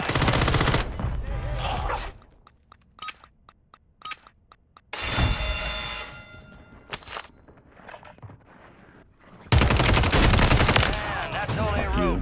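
Gunfire in Call of Duty Warzone comes in loud, dense bursts of rapid shots, separated by quieter stretches of scattered single cracks and clinks, with a voice talking at times.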